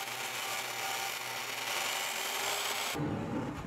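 A saw cuts through a butcher block wooden countertop, giving a continuous close, steady rasping whir that stops abruptly near the end.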